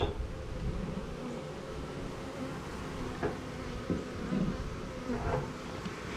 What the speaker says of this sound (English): I got a lot of bees dangling here on the side walls